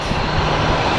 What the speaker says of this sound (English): And the noise you are hearing is an A321 that is being prepped.